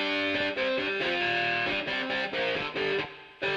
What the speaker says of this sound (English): Did you hear that reverb in that gap then?